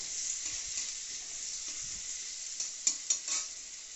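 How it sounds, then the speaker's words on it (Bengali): Finely chopped onions sizzle steadily in a hot pan with oil while a utensil stirs them, producing soft scraping strokes and a few sharp clacks near the end over the constant frying hiss. "ছোটো ছোটো করে কেটে রাখা পেঁয়াজের গুঁড়োগুলো দেওয়া হচ্ছে"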